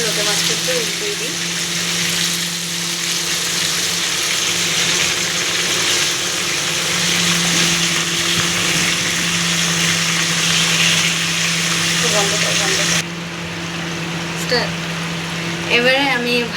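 Flour-coated Bombay duck fish frying in oil after being turned over, a loud continuous sizzle with a steady hum underneath and a brief clatter near the end, while someone talks faintly in the background.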